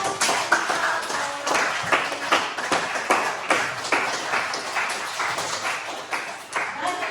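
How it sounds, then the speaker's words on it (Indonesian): A university English class claps, a small group's scattered, uneven hand claps and taps at moderate volume, with some voices mixed in beneath. "jadi berikan tepuk tangan sekali lagi untuk seluruh"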